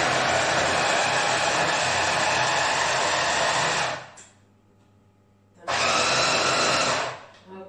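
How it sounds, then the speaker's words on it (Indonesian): Electric kitchen blender chopping garlic cloves: a loud, dense whirring roar runs for about four seconds, stops for a short pause, then starts again briefly, close up with no talking. "Masukkan di blender dan kita blender sebentar ya."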